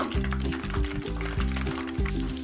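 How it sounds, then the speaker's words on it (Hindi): Egg-dipped chicken shami kababs deep frying in hot oil, a steady loud sizzle with rhythmic bubbling pulses repeating about every half second, close and without speech. "एक एक करके इसी तरह मैं अंडे में डिप करती जाऊंगी और इसको डीप फ्राई करती जाऊंगी"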